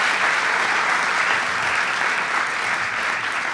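Dense, sustained applause from a concert audience at a Hindustani classical music performance, steady and loud throughout with no talking.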